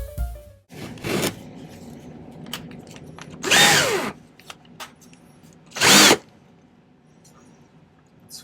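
A rotary tool fitted with a burr grinds on a silver sphere in short bursts, three separate high whining runs of a second or less, the last two loudest, with quiet handling between.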